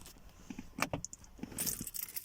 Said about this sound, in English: Take my keys out, don't want anybody running off with that.